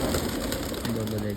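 Pigeons being fed grain coo softly and briefly, close by, with faint voices and outdoor background noise around them.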